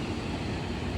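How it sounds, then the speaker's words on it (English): A truck passes close by, a loud, dense broadband rumble with heavy low-end engine and road noise that holds steady for the whole second, with no voices over it. "Let's wait for this truck to go by."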